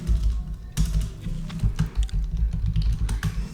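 Rapid typing on a computer keyboard, the clicky keystrokes coming in quick irregular bursts, close and clear with no talk over them.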